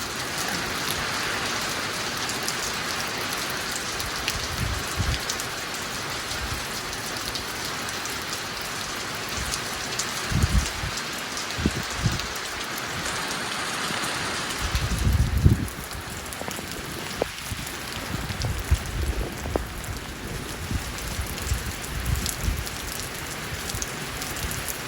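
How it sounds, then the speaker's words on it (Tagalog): Heavy rain pours steadily in a dense, continuous hiss outdoors, loud and close, with occasional low thumps and drips breaking through and no voices. "Lakas ang ulan."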